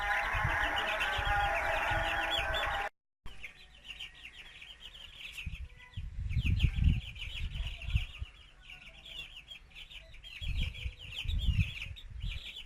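Chicks peep in quick high bursts near a dog, first loud and close, then softer and more scattered, with low soft thumps and shuffling beneath the chirps.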